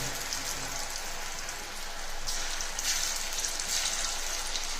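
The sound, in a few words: mushrooms deep frying in hot oil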